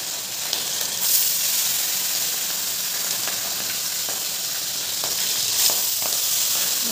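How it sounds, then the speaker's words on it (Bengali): Boal fish frying in hot oil, a loud continuous crackling sizzle with steady hiss and occasional sharper pops, close and alone without talk. "তা আগে এই মাছটাই ভাজবো, ভাজিয়ে রেখে তারপর ওই তেলটার মধ্যে এই মাছটা বসিয়ে দেবো। দেখো পুরো তেল গরম হয়ে গেছে"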